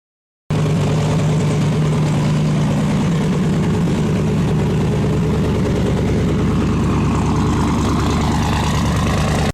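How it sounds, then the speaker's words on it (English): A 1964 Ford Galaxie 500 with a twin-turbo 482ci SOHC Cammer V8 and unmuffled 4-inch stainless exhaust idles loud and close, a deep, steady, lumpy rumble after a moment of silence. "A custom 4-inch stainless exhaust with no mufflers and oval side exit tips ensures the Cammer announces its presence with absolute authority."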